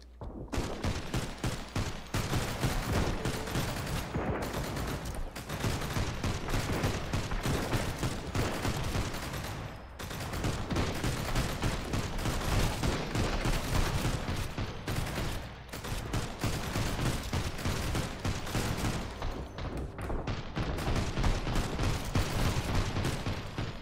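Automatic turrets in the survival game Sunkenland fire nonstop, a dense, loud rattle of rapid gunshots that continues with only brief dips for the whole stretch.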